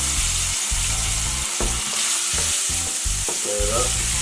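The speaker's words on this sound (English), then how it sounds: "Now we're gonna go ahead and add our épices in the oil." Spices hit hot frying oil for black rice, giving a loud, close, bright sizzle and crackle with rhythmic stirring scrapes that make the sound pulse in short bursts.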